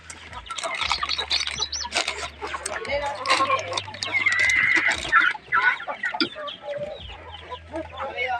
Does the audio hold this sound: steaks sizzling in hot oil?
no